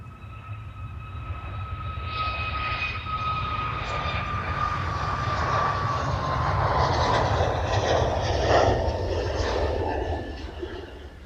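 An Air Europa airliner passes at Amsterdam Schiphol airport, its jet engines swelling into a loud, steady roar with a rising whine that peaks midway and then holds as the aircraft goes by.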